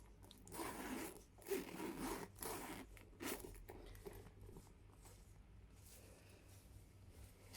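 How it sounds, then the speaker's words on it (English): Zipper on a Louis Vuitton Palm Springs Mini bag pulled back and forth in several close, quiet rasping strokes, fading into softer rubbing. "Zipper is super smooth."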